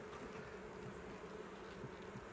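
Honeybees crawling in a dense mass while being moved into a horizontal hive, with a steady, close buzzing hum throughout and no voices.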